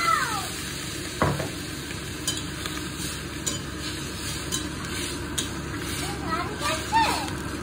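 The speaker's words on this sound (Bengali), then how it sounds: "এটা ভালো করে ভাজা ভাজা হয়ে গেছে প্রতিটা সবজি" A mix of eggplant, potato, pointed gourd and bitter gourd fries in a pan with a steady close sizzle and occasional stirring scrapes, while a cat meows briefly now and then.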